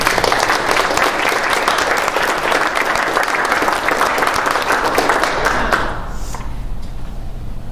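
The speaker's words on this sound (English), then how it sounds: "round of applause because this has been a fabulous event" Loud, dense applause from a dinner crowd at a charity benefit dinner for Chiapas, many people clapping together before it tapers off abruptly near the end, leaving a quiet room.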